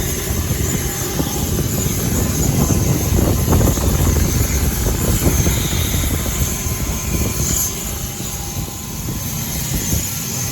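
A Dash 8 Q300 turboprop airliner on a CemAir flight from Plettenberg Bay drones steadily from inside the cabin, a loud continuous engine roar with a high propeller whine throughout.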